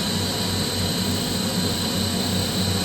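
KAESER 7.5 kW screw air compressor running steadily, a loud, constant mechanical drone with a high whine layered over low rumble, unchanging throughout with no voices.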